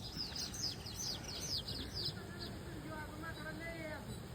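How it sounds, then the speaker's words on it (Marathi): Faint bird chirps and twitters come through a steady outdoor hiss in the village countryside of Maparwadi, with a few quick calls clustered early and softer ones later. "आता आवाज येतो का पाकरांचा तुम्हाला"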